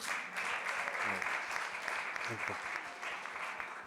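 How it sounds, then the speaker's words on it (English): A conference audience at a symposium breaks into warm, continuous applause, a thick wash of many hands clapping at moderate volume for several seconds, with a few murmured voices underneath. "So first of all, applause to you for your work."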